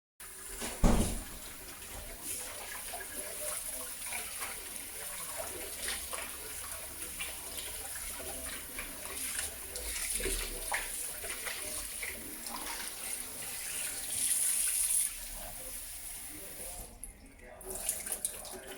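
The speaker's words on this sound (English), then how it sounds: "It's time to rinse the shrimp." A kitchen tap runs steadily while shrimp are rinsed under it for siomai and wonton dumplings, with a soft continuous water hiss and light splashing throughout.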